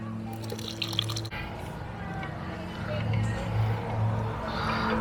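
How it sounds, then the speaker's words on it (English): Pig roast injection juices poured through a strainer, a steady liquid trickle with light dripping running under steady low-pitched background hum and faint voices. "So we're gonna pour it in here and strain out the"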